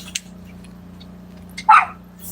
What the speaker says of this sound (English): my dogs bark all the time